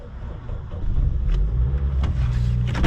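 A car engine, either an Opel or a Toyota, turns over and settles into a steady idle, a loud close rumble that thickens after the first second and runs on evenly.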